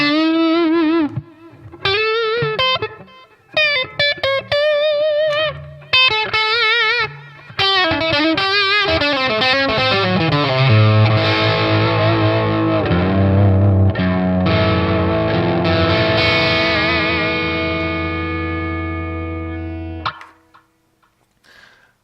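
An electric guitar played through a Boss Katana 50 amplifier with effects, loud and distorted, with choppy picked phrases at first that give way to sustained, heavily processed chords ringing out alone before cutting off.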